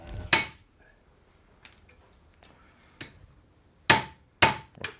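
A hammer strikes a chisel driven into a part on a 2014 Citroen C4 during a front wheel bearing replacement, landing as sharp, loud metallic blows: one early, one softer mid-way, then three quick ones near the end.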